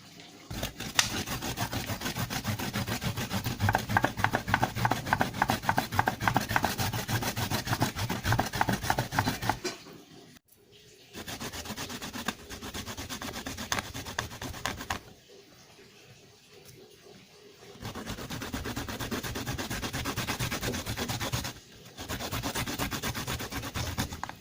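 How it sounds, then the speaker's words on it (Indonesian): Turmeric root being grated by hand, a steady scraping rub repeated in quick strokes, loud and close, with two short pauses before the grating resumes. "Langkah awal yang bisa kita lakukan adalah dengan memarut kunyit"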